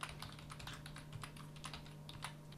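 Steady typing on a computer keyboard while building a WordPress gallery block: quick, irregular clicks of keys close up at low volume, with a faint constant hum underneath and no talk.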